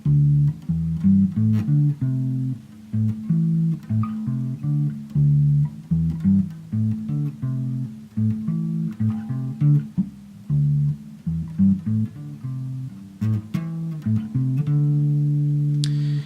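A slow, deliberate bass guitar line, each plucked note ringing distinctly in a steady, unhurried rhythm with no voices.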